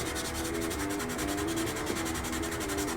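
Sandpaper rubbing along a harsh edge of a 1/48 Zvezda Su-57 plastic model kit, a steady, close, continuous rhythmic scratching with no talk.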